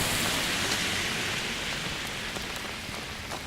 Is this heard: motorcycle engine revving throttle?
no